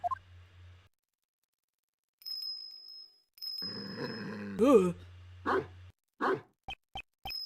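A dog in the Ace Attorney Investigations 2 video game gives a few short, sharp barks near the end, after a steady ringing bell tone from the bell on its collar, with game sounds and a brief silence before.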